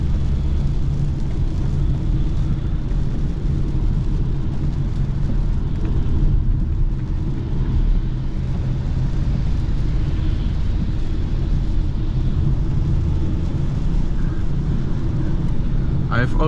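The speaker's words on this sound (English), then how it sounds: "They are a little bit louder than my summer tires" A car cruises on a crowded German Autobahn on a Saturday afternoon, its winter tires producing a steady, loud road roar and rumble that runs unbroken throughout, with someone talking over it.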